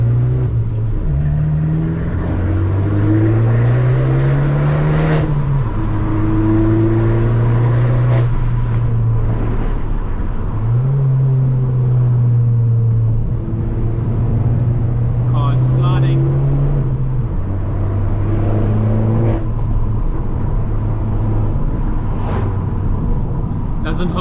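A car accelerates hard up Spaghetti Hill in a time trial on wet roads, its engine climbing in pitch through repeated gear shifts, loud and close from inside the car, with someone talking over it now and then.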